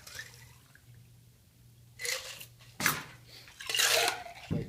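Liquid strained from a shaker tin in a speed-round bar setting, with short bursts of splashing pours and drips separated by quiet gaps, fairly close.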